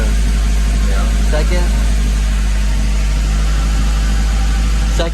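An Acura Integra with a B18C1 engine idling after a new ACT clutch and lightweight flywheel install, a loud steady low hum and rumble close by, with people talking over it.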